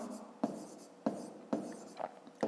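Pen writing out a fifth-grade math solution in a notebook, heard as several short bursts of scratchy strokes with clear taps as the pen meets the paper, close and fairly quiet, with no talking.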